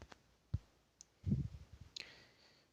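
Mouse clicks while filling in an online form for an anganwadi building's infrastructure details: a few faint, sharp clicks spaced apart, with some low soft handling noise between them in a quiet room.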